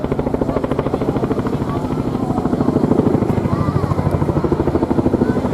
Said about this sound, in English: The display you see today really demonstrates how manoeuvrable this extremely large helicopter is.